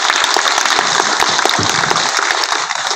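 Applause from a crowd at an outdoor memorial rally for a university cleaning worker, steady and dense clapping lasting throughout, loud and close, with no talk over it.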